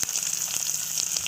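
A fish head sizzles and crackles steadily in hot cooking oil, a close, continuous frying hiss with small pops throughout and no talking.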